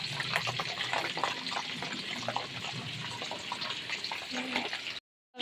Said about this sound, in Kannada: ಬೆಳ್ಳುಳ್ಳಿ ಹಾಕಿದ ತಕ್ಷಣ ಇದರ ಸೌಂಡ್ ಬರುತ್ತೆ.